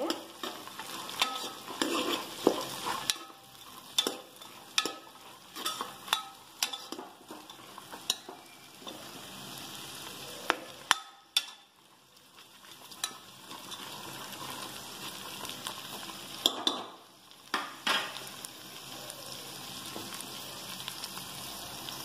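Vegetables for a pulao being stirred and fried in a pan, with repeated scraping, clattering strokes of a spoon over a steady sizzle, close and fairly loud, no talking.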